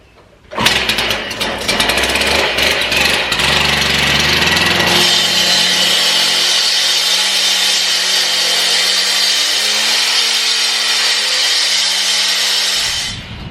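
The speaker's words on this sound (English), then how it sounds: "I'm going to take the saw and go ahead and finish sawing that" A power saw roars loudly and continuously close by, grinding through concrete with a harsh, sustained whine before cutting off at the end.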